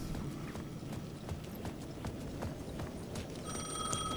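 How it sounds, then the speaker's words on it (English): A payphone rings in the video game Alan Wake 2, with a faint electronic bell tone rising near the end over a steady wash of rhythmic clattering steps and ambient noise. "The payphone at the edge of the plaza was ringing again."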